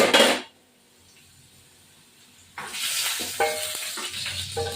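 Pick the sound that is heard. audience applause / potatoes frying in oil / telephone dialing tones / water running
potatoes frying in oil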